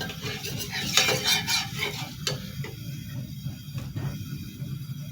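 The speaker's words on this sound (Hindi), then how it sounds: "सबसे पहले इसके अंदर हम प्याज डालेंगे।" Onion frying in a little hot oil, with close spatula scraping and stirring against the pan over a low crackling sizzle, uneven and busy for several seconds.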